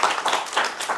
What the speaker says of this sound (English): Can we have another round of applause for Craig?